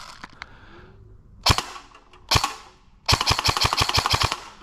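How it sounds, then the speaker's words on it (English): An airsoft gun fires at a cup about 20 feet away: two sharp separate snaps, then a fast burst of about eight crisp cracks in quick succession, loud and close with no talking. "Let's go ahead and try some shots on the cup."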